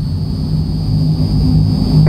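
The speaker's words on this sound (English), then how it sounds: "We just need to taxi our way out towards the runway." Engines of a Transall C160 military transport plane taxiing toward the runway, a loud steady low drone with a constant high whine, heard close up from on board without speech.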